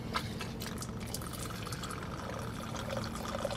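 Tito's vodka poured into a spicy cocktail glass, a steady close liquid stream running for several seconds with faint splashing and no talk.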